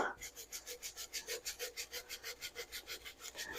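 Brisk rhythmic back-and-forth scrubbing on a dirty Danner Bull Run moc toe leather boot, about twenty evenly spaced brush strokes in quick succession, close and faint, with no voices.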